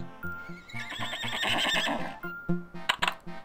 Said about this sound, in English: A horse goes.